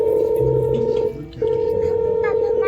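A telephone sounds a steady tone while a call is being dialed. The tone pauses briefly and then resumes, with faint voices and room noise underneath.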